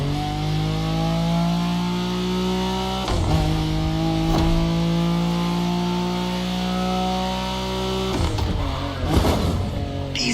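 A car engine in The Crew Motorfest holds a steady droning tone, broken by a couple of sharp jolts and bumps from rough driving, loud and alone.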